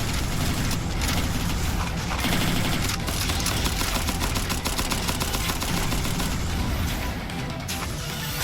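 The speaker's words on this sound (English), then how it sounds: "We can open fire with the rockets from here." Rocket fire and explosions in the Cavalry Girls video game form a continuous, dense barrage of bursts and booms that never lets up.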